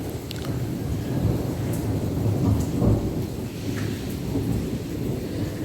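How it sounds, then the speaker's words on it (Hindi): Heavy rain falls steadily in a thunderstorm while low thunder rumbles continuously beneath it, with a few sharper cracks and drips standing out; no one speaks. "जो आवाज़ है ना उससे तो लग रहा है कि थंडर स्टॉर्म है, ख़तरनाक वाला।"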